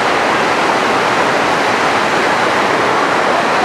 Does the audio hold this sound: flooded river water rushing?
yes